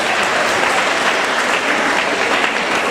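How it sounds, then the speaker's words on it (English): Audience applauding at the Old Harbour Primary School graduation ceremony, dense and loud clapping from a large crowd, sustained evenly throughout. "Give them a better round of applause."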